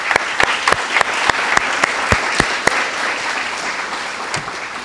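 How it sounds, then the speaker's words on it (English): Warm audience applause for teachers and teacher aides at a school Down Syndrome awareness event, a loud dense wash of many hands clapping, with a few sharper claps standing out nearby. "Let's give them a round of applause."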